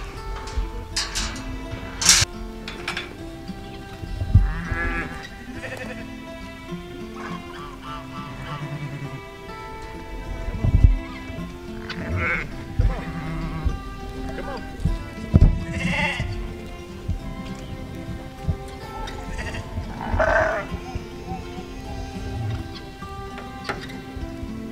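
Several sheep bleat repeatedly at varying distances over a low rumble of outdoor background noise, with calls scattered irregularly throughout.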